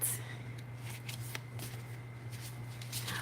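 A deck of playing cards being shuffled repeatedly, steady riffling and bridging up close over a low electrical hum, with no talking.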